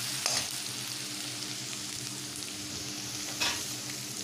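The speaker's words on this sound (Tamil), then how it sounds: "நெக்ஸ்ட்டு கருவேப்பிலை போட்டுட்டு நல்லா ஃப்ரை பண்ணிகிட்டே இருக்கணும்." Grated ginger and curry leaves fry in a pan with a steady, close hiss, and two brief bursts of sharper crackle rise above it.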